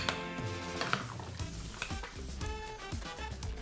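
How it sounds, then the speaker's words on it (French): Chicken curry being stirred in a pan, a steady sizzle with soft scraping and clinking of a utensil against the pot, close and continuous for a few seconds with no talking. "je mélange"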